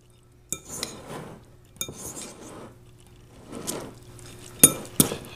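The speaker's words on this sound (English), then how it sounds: "Now we're going to go ahead and add our egg mixture in with our cheese. You want to quickly toss this." Egg mixture is tossed with cheese in a bowl using a utensil, heard as a few bursts of close scraping and mixing separated by brief pauses, ending in sharp clinks against the bowl.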